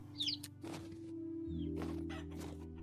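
Rooster in a video game clucking in a few short bursts, with a steady low game hum and drone running underneath.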